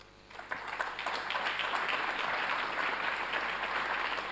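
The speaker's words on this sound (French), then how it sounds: "Je vais vous demander d'applaudir et d'accueillir également Claudine Hermann." An audience at a French mathematics congress applauds to welcome a speaker, a broad, sustained wash of clapping that swells in after a quiet start and holds steady throughout.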